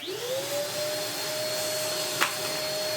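A V-TUF Mini HSV X2 M-Class vacuum cleaner runs with its floor head, a steady loud whine that rises as the motor spins up, then holds with a high tonal hum and one brief rattling suck of debris.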